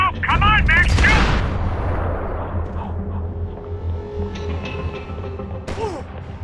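Gunfire and blasts fill a firefight in the video game Max Payne 3, with a burst of loud shots and impacts at the start fading into rumbling echoes. Voices shout over the action.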